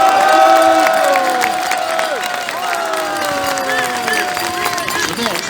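Crowd at an outdoor anti-coronavirus-restrictions freedom rally applauding and cheering as a speaker is introduced, with loud sustained clapping, whistles and shouts mixed with voices throughout.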